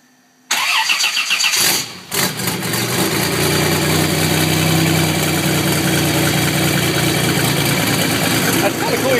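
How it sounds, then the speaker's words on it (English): A Buick's new motor cranks and fires for its first start, a short burst of starter whirr, a stumble, then a steady loud idle that holds, with voices talking over it. "first start of the new motor"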